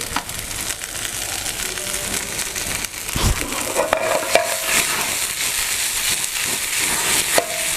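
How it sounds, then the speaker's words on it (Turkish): Mushrooms and spinach sauté in melted butter in a hot pan, a steady broadband sizzle with occasional stirring scrapes and clinks throughout, close and fairly loud with no talking. "Bir parça tereyağı attım. Mantarlarımı ve ıspanağımı gönderiyorum."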